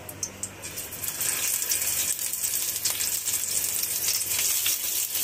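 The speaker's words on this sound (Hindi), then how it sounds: "इसको ऑयल में फ्राई कर लेंगे।" Food sizzling steadily in hot oil in a home kitchen, a dense, close crackling hiss that swells after a brief quieter start and continues evenly throughout, with no talking.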